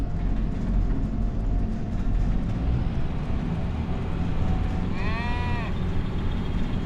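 Calves on a cattle farm bleating once in a short, wavering call near the end, over a steady low rumble of background noise.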